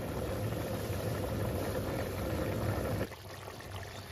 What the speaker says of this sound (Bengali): আলু পনির সুন্দর ফুটছে টকবগিয়ে